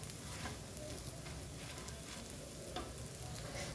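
Marinated soybeans fry in a pan on a gas stove and are stirred as they cook. The close, steady sizzle crackles throughout, and soft scraping stirs come through now and then.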